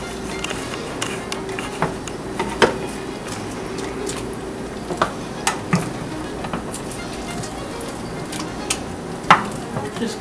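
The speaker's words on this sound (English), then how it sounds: "we're just gonna stir it around in the sauces just to get some more of that flavor" Buffalo cauliflower being stirred around in sauce, soft wet sloshing with occasional sharp clinks of a utensil against the bowl or pan at irregular intervals.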